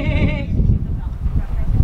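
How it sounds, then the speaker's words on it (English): A bighorn sheep bleats nearby in one short, clear call, followed by low rumbling outdoor noise. "We're attracting the sheep!"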